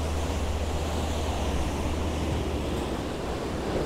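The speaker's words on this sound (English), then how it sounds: "the waves kind of washing up around there, creating some nice patterns in the foreground" Sea waves washing up around rocks under a moody sky just past sunrise, a steady broadband wash of surf with wind rumble, continuous and fairly distant, no voices.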